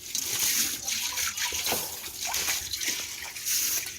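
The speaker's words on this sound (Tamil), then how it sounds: "இந்த மாதிரி தண்ணி நல்லா பச்சை தண்ணி ஃபுல் பண்ணி வச்சுக்கணும்." Cold tap water pours and splashes into a kitchen vessel, a continuous wash of running liquid with small sloshes and drips, moderately loud and steady.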